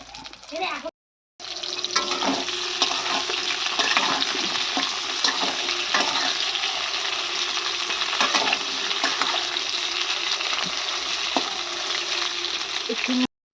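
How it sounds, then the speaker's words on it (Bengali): Cut ridge gourd fries in a pan for a Bengali fish curry, giving a steady, dense sizzle after a short pause, with occasional stirring scrapes and a voice talking over it. "ঝিঙেটা একটু ভেজে নেওয়া হচ্ছে লাল লাল করে"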